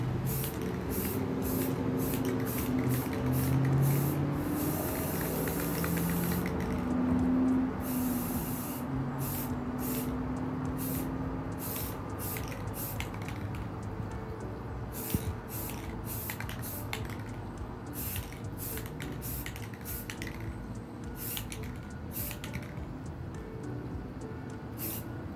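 Light bursts of white spray paint hiss onto a tumbler in repeated short sprays with brief pauses between them, steady and close, without any talking.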